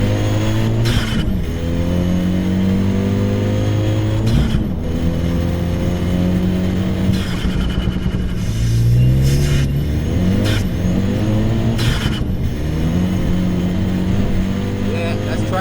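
Turbo-swapped Renault Clio 197 F1 engine accelerating hard, its loud, close note climbing in pitch through several repeated pulls with brief dips at each gear change, heard from inside the car.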